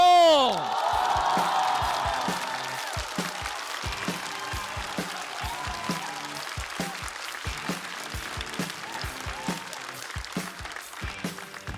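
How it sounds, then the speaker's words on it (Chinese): Loud audience applause at a stand-up comedy show fills the whole stretch, a dense steady clapping with scattered whoops and cheers, beginning with a short musical flourish. "我们掌声有请"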